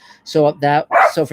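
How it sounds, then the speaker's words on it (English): Dogs bark in the background while someone talks over them, with several short, sharp barks close together. "So it's great fun when the dogs aren't barking."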